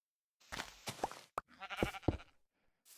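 Sheep in the Craftverse video game give several short, close bleats in an irregular sequence, separated by brief silences.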